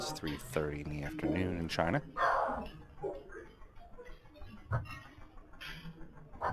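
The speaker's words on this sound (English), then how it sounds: "anytime you hear Leia barking," A pet dog barks in a home studio used for remote commentary, a short bark or two rising just after a voice and continuing faintly while he keeps talking.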